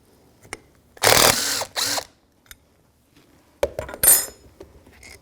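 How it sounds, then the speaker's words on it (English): A 14mm socket wrench cracks loose the caliper slider pins on a 2011-2017 Honda Odyssey, giving two loud bursts of ratcheting and metallic clatter close by, with small tool clinks before and after. "Take your 14mm socket, break them free."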